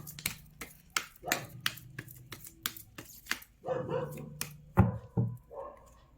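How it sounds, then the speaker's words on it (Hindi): A pet dog at home barks repeatedly indoors in sharp, irregular bursts with short gaps between them, some louder and closer than others, along with faint handling noises. "मेरा डॉगी बहुत ज़्यादा भौंक रहा है"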